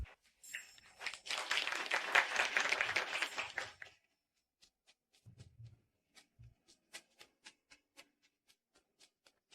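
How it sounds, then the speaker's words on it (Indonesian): At a wedding ceremony, a short burst of clapping swells and fades within a few seconds, followed by sparse, faint isolated taps and clicks in near silence. "Mari kita berikan tepuk tangan."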